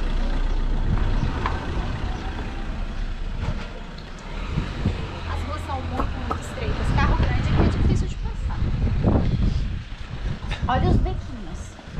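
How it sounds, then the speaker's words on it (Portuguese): A car passes close behind on a very narrow street in Covilhã, Portugal, in spring, a low engine rumble running steadily under near, continuous talk from several people. "Ó, o carro aqui atrás."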